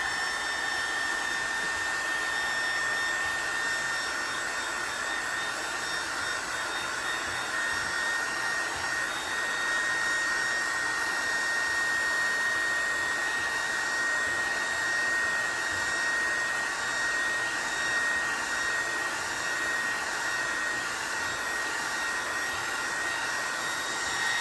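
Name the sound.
hair dryer drying paint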